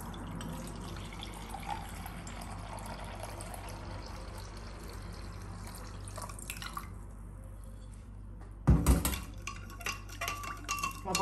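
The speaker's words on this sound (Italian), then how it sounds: "Acido citrico e poi aggiungo l'acqua." Water poured into a citric acid solution being mixed as a coffee machine descaler, a steady trickle and drip in a quiet room, ending with a few louder splashes and clinks near the end.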